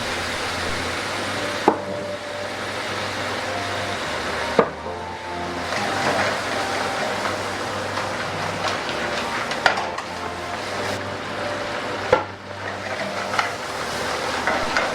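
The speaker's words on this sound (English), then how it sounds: "At this point, all the oil before has been absorbed, so I deglaze the pan with white wine." White wine deglazes a hot pan holding lobster with ginger and scallion, giving a steady loud sizzle under scraping and stirring, with a few sharp knocks of utensil on the pan and no voices.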